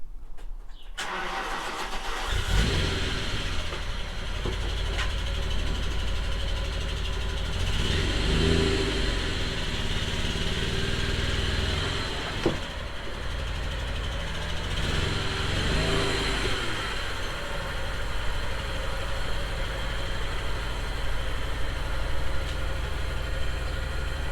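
A VW MK3 Jetta GLX with a VR6 engine starts up, then revs repeatedly and settles into a steady idle between blips. The engine sits close and loud and runs continuously with no talking.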